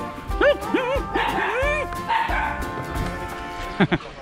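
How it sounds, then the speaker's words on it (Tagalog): Dogs bark and yip in quick, high-pitched bursts close by, with a few whimpering tones, while people talk in the background. "Ano mga aso?"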